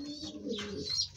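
Racing pigeons in their loft give a short, soft coo, close by, lasting about a second with no voices.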